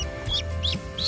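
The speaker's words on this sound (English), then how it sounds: "That's a happy looking duck." Khaki Campbell ducklings give three clear, high, close peeps in quick succession over a steady low background hum.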